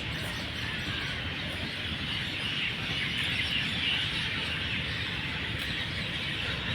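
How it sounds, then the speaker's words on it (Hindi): Evening birdsong in a botanical garden: many birds chirping and squeaking together in a dense, continuous chorus at moderate distance, with no talk. "चिड़ियों की चहचहाहट है ना, आगे भी थी पीछे भी"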